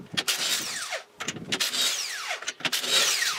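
Impact wrench or power tool zipping lug nuts off a Lexus SC300/400 wheel during a brake caliper bracket install, in three loud bursts with brief pauses between.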